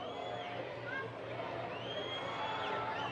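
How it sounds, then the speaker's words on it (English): Crowd reacting during a total solar eclipse over North America, a dense outdoor babble of many voices with whoops and rising excited cheers, close and continuous. "Crowd's getting excited."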